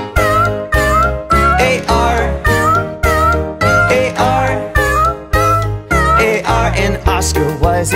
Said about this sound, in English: There was a farmer who had a cat, and Oscar was his name, oh.